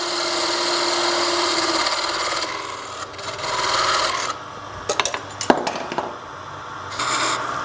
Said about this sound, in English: we now need to turn a tenon on the end of it that matches our 1-inch drilled hole